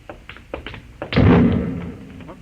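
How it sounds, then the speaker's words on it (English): A distant explosion effect from a sci-fi radio drama: a soft, broad rumbling boom that swells and slowly fades, following a few faint knocks, with no voices over it. "No, that was an explosion."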